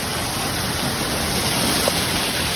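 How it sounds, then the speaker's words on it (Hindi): Hail and rain fall in a storm in Gurgaon as a steady, loud broadband hiss, an unbroken even downpour with no voices over it. "ओले जैसे वो ओले जा रहे हैं।"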